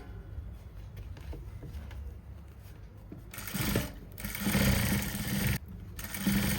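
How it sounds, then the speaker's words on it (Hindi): A sewing machine runs in bursts as it stitches a fold into fabric for a farshi salwar, the motor whirring loudly with brief pauses between runs and no one speaking. "और अब एक इसकी लपकी लगा लेंगे हम सिलाई"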